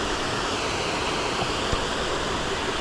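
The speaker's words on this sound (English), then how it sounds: "Not another waterfall." A steady, full roar of falling water from a waterfall at a resort in Hua Hin, a dense unbroken rush heard close and alone.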